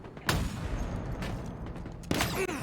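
Sniper rifle shots in a Halo Infinite match at the HCS Charlotte Major, FaZe versus OpTic: two sharp cracks about two seconds apart over a low background rumble.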